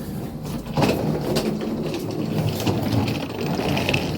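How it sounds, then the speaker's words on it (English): A mechanical clunk followed by a low sliding rumble as lift doors roll open at a railway platform, with a steady hum underneath. "Doors opening."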